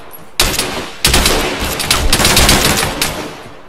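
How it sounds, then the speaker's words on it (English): Rapid automatic gunfire from the Arma 3 military video game, several loud close bursts of shots in quick succession with brief gaps between them, no talk over it. "Someone shooting."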